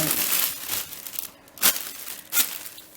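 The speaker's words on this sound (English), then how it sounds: "I'm going to put this plastic bag to the side for a second" Soft crinkling and rustling of plastic being handled, with a couple of sharper crackles near the end.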